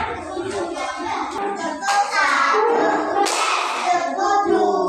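Children in a classroom clap their hands together in a clapping game, sharp overlapping claps mixed with young voices chanting along.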